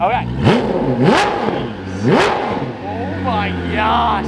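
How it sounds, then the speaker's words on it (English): A Koenigsegg supercar with its factory exhaust gets a couple of short, sharp throttle blips, each rising whine dropping back to a burbling idle, loud and close, while people react with brief exclamations. "Give it just a little tap, a little baby rev."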